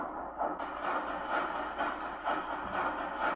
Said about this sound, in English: But the train isn't stopping, so it can't be.